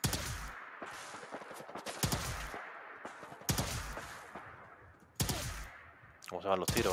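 Gunfire in the video game Fallout 4, several sharp loud shot bursts spaced a second or so apart, each ringing out briefly before the next, with fainter game ambience between them.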